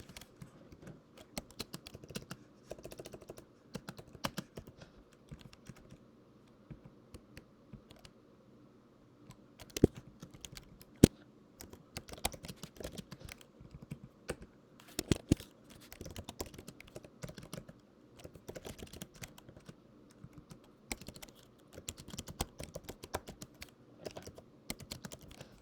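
Rapid, uneven clatter of computer keyboard typing while writing Python code, with bursts and short pauses, close and fairly quiet with no talking.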